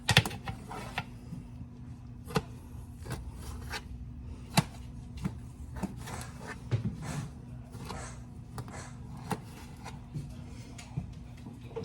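A knife cuts through a hot, soft, freshly baked loaf turned straight out of the pan in a home kitchen, giving a run of quick, close, crisp scratchy strokes in an uneven rhythm with no talking.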